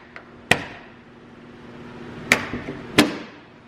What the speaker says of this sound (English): They both latch.